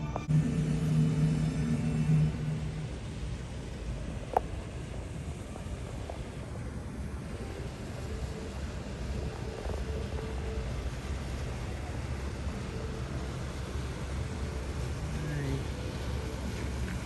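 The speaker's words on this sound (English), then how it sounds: "So here comes the boat." Low, steady engine rumble of a boat on the water, continuous throughout with a faint distant clank midway.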